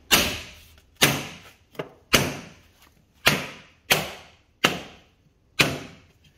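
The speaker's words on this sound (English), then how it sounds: "grab your mallet, give it a bang" A mallet strikes hard eight times in a fairly steady rhythm, banging a door onto its track, each bang a sharp, close thud that rings briefly before fading.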